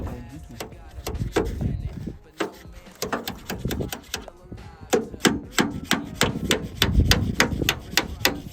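Hammer blows strike the bodywork of a Nissan S14 in a car body shop: a rapid, irregular series of sharp metallic clangs, close and loud, with brief pauses between bursts.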